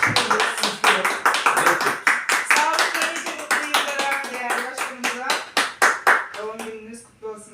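Audience clapping for the organizers at a small gathering comes in uneven bursts of hand claps, fairly close and lively, with people talking and laughing over and between them.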